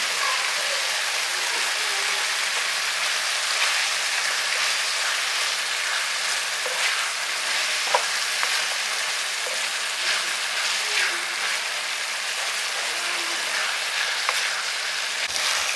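Brinjal, onions and spices sizzle steadily in a hot pan, a dense continuous frying hiss with occasional soft stirring scrapes, close and even throughout with no talking.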